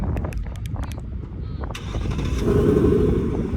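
A 2024 Ford Mustang engine turns over by remote start and settles into a steady low rumble nearby, with a few faint clicks beforehand.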